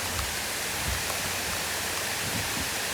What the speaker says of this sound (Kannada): ಇಲ್ಲಿ ಜೋಗದ ಒಂದು ಜಲಪಾತ ಇದೆ